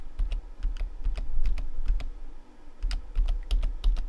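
Computer keyboard keys clatter in quick clusters of close, crisp clicks with irregular rhythm, a brief pause in the middle, and no talk.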